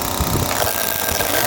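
A string trimmer engine runs steadily at half throttle on mowing equipment, a continuous loud, rough motor drone with no pauses across the short stretch.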